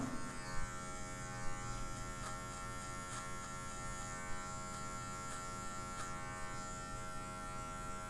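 An electric hair clipper runs on a low guard setting while fading hair, a steady close mechanical buzz with faint brushing ticks over it and no talk.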